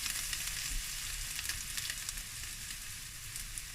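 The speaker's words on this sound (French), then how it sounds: "l'ail et le gingembre. Hop, que je vais faire dorer vraiment doucement." Steady, close sizzling of garlic and ginger frying gently in hot oil in a pan, a continuous crackling hiss with small pops, no talking.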